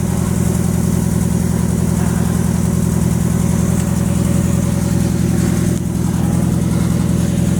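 A car engine idles with a steady, even mid-pitched rumble, loud and close, holding constant with no revving.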